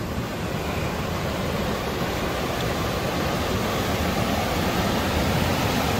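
River rapids rush strongly during spring runoff, a dense, steady roar of churning water that holds constant throughout with no voices.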